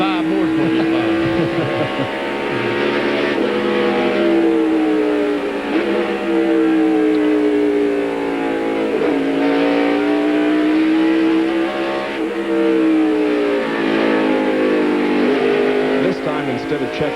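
A close pack of six race cars lapping Watkins Glen in 1997, with steady high-revving engine drone whose pitch rises and falls as the cars accelerate and brake, loud and continuous under a commentator's voice.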